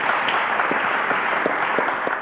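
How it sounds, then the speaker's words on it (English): A studio audience at a quiz show gives a short burst of steady, dense clapping, loud and close throughout. "A round of applause to them, ladies and gentlemen."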